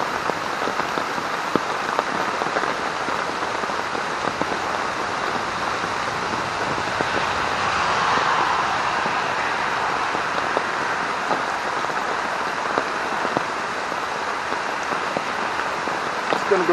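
Continuous rainfall hissing evenly over a long stretch, with occasional nearby drips and a brief swell of noise midway.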